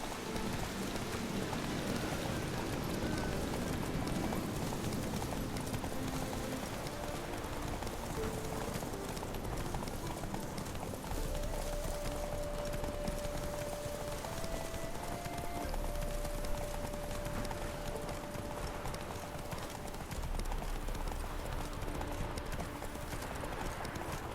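Geralt's horse Roach gallops in The Witcher 3 video game, with rapid rhythmic hoofbeats pounding steadily beside falling rain and a faint whinny, while someone talks over the noise.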